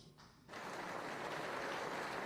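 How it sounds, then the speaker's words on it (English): The UN General Assembly applauds Nelson Mandela, quiet room tone giving way after half a second to a sustained, even wash of hall-wide clapping that swells slightly and continues to the end. "His comments won him applause from leader Yasser Arafat and the Assembly"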